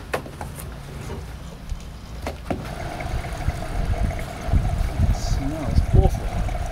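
Gasoline pouring from a 5-gallon can into a motorcycle tank, a low gurgling trickle that grows fuller and louder toward the end, with some faint handling noise.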